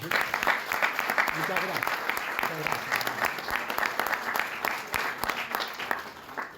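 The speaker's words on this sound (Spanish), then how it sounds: "Bueno, un aplauso entonces." Audience applause at a lecture about Belgrano, a sustained, moderately loud patter of many hands with sharp individual claps, while a voice speaks briefly over it.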